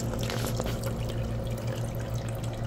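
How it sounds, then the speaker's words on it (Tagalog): A countertop ice maker pumps and pours water for making ice, giving a steady close trickle and splash over a constant low motor hum. "nagpo-provide siya ng tubig para sa ice niya."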